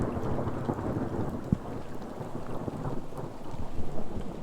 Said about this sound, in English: We're going to have some thunder